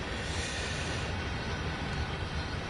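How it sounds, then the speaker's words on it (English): Steady loud rumble of a long freight train rolling past, carrying grain cars, in the Cajon Pass setting of Train Sim World 3, with continuous wheel and car noise throughout and no voices. "let's watch the rest of the train go by"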